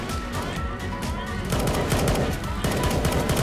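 Rapid automatic gunfire in the Roblox game Base Battles, a dense, continuous rattle of shots that stays loud throughout the short stretch.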